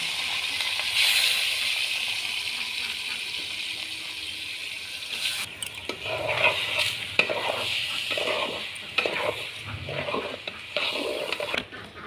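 Rice frying in oil with bay leaf in a pot for biryani: a steady sizzling hiss, joined midway by repeated scraping and stirring clatters of a spoon against the pan.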